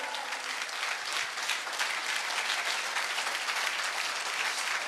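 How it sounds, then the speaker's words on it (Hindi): Sustained applause from a seated audience at a Safeshop achievers' meeting, a dense even wash of clapping lasting the whole stretch, loud and continuous with no pauses. "जोरदार ताली होनी चाहिए सर के लिए।"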